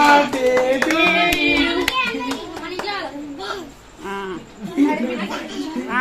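Scattered hand claps ring out at a child's birthday party, mostly in the first half, mixed under lively children's voices, chuckles and adult chatter close by.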